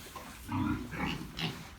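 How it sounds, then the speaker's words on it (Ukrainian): Weaned piglets, four days old, grunt softly in a quick series of low, close snuffling noises in a barn, with no talking. "Відлучені поросята, їм вже 4 дня."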